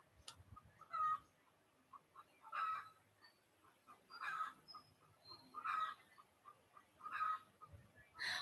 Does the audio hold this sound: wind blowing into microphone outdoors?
no